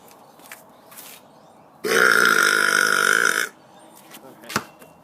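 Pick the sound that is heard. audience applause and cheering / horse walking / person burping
person burping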